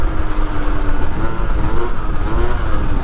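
A Yamaha YZ 125 dirt bike revs under acceleration, a loud, close engine drone with rising and falling pitch across a few seconds.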